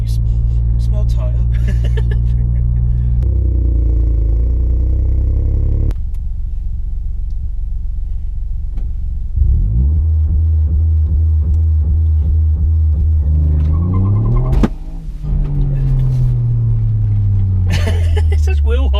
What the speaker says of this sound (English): It's just wheel hop.